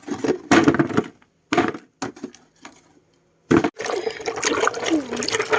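Water pours and splashes as soil is rinsed off freshly dug garden vegetables, coming in several short separate bursts with pauses between, then a longer steady run of splashing near the end.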